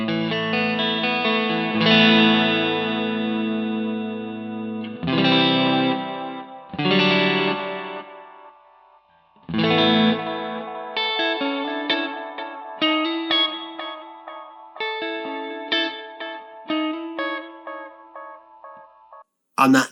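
Harley Benton DNAfx GiT Pro guitar multi-effects unit playing chords and single notes through a tape echo effect, with warbly repeats trailing off after each phrase and ringing sustain, no talking.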